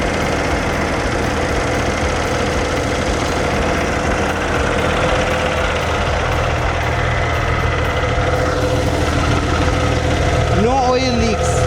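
Cummins CX-15 diesel engine of a grapple roll-off dump truck idling with a steady, close, low rumble throughout, a brief tonal squeal near the end.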